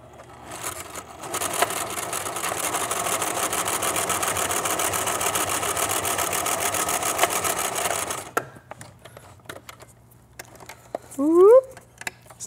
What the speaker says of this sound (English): I've got my sewing machine out here so I can do it super quickly